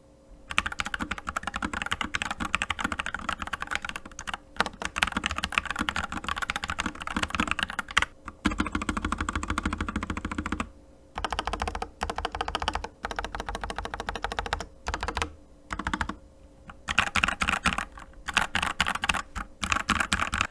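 Continuous, rapid clacky typing on a custom mechanical keyboard fitted with Monoke keycaps, close up and steady, with a few brief pauses between bursts and no talking.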